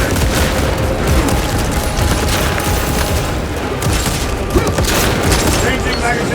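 A grenade blast in Warhammer 40K Space Marine 2 amid constant heavy gunfire and battlefield din, with shouting voices throughout and a sharper boom standing out briefly near the middle.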